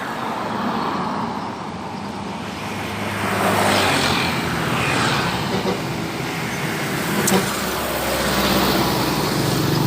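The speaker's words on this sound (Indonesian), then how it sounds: "Di depan terpantau teman-teman ada bus PT Pelangi teman-teman." A PT Pelangi bus passes on the Sumatra east cross highway at Pandau Marpoyan, its engine and tyre roar swelling and fading amid continuous roadside traffic noise, fairly loud and close.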